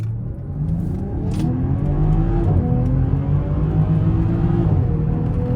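A BMW X5 SUV accelerates from inside the cabin, its engine note rising steadily then dropping and climbing again as the transmission shifts, a continuous close drone with no talking.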